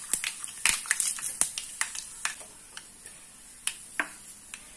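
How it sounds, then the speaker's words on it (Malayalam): Mustard seeds spluttering in three tablespoons of hot sesame oil in a pan with dried red chillies, sharp irregular pops and crackles, dense at first and then thinning to sparse single snaps. "കടുക് പൊട്ടി."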